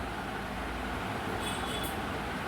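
A train departs in the video game Dead Rails with a continuous loud rumbling rattle and brief high wheel squeals partway through, and no voices.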